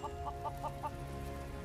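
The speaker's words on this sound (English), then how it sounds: "I can't keep up with a flock of chickens." Chickens in Final Fantasy VII Rebirth give four quick, evenly spaced clucks over a steady, busy game background, moderately loud.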